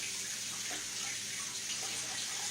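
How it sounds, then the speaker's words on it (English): Hands washed under a running kitchen sink tap, a steady close rush of water with slight splashing throughout and no voices. "now I'm going to wash my hands"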